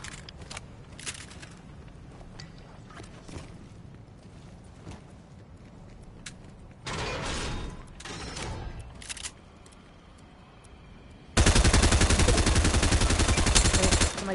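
Video game gunfire in a jungle setting: scattered shots and sustained bursts of rapid automatic fire, loud and close, with quieter stretches between.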